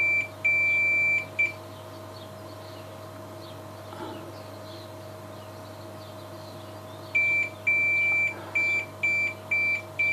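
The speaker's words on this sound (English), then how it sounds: "I'll just connect it up so that we can hear it beep when it connects" A digital multimeter set to continuity beeps as a DIY CNC probe makes contact, giving a quick run of short, clean beeps at the start, a quiet gap, then another series of evenly spaced beeps near the end.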